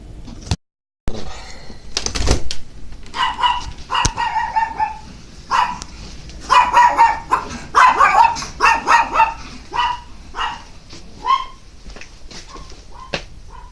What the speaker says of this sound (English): It's my dog, Charlie.